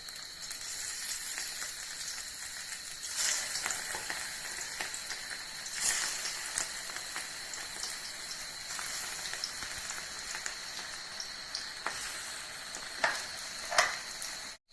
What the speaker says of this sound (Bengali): তেল গরম হয়ে গেছে বন্ধুরা, এবারে এগুলো একটু একটু করে ভেজে নেব